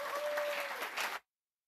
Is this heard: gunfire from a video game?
no